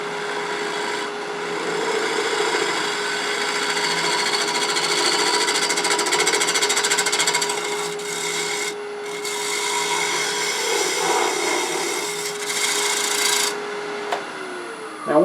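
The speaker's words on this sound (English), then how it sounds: "So I'm using a 1/2-inch bowl gouge with a flute" Half-inch bowl gouge cutting wood on a lathe for a table lamp: a continuous, loud scraping whir with a steady motor tone, brief pauses in the cut and a sharp knock near the end.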